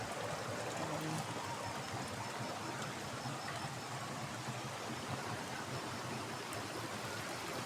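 Steady broadband rush of the Talon Pari waterfall in Doña Remedios Trinidad, Bulacan, water pouring continuously at an even level throughout, with no voices.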